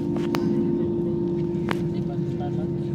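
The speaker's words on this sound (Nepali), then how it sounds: "गाइज इन्जिन स्टार्ट भइरहेछ है पुरा थ्रोटल हान्दैछ" Aircraft engine running at full throttle on a Kathmandu to Dubai international flight, heard from a seat right above the engine and wing: a loud, steady droning roar filling the cabin throughout, with brief bursts of nearby noise.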